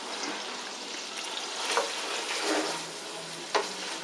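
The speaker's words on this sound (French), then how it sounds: "il faut faire caraméliser les oignons" Onions caramelizing in a pan for onion soup, giving a soft steady sizzle with a few faint stirring scrapes and light clicks, heard alone without talk.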